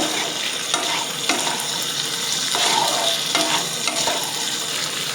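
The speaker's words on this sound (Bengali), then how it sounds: "সমস্ত কিছু দিয়ে একটু ভালো মতো নেড়ে দিতে হবে" Paneer with Kashmiri chili powder being stirred in a frying pan for chilli paneer, a steady sizzle with scraping spoon strokes throughout, close and alone.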